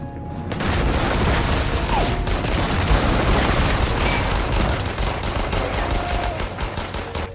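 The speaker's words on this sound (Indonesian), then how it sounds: "Jerman yang masih memenuhi gedung pun segera berontak dan beradu peluru" Dense gunfire in a World War II building battle between Soviet and German troops, a continuous loud barrage of overlapping shots and booms lasting throughout.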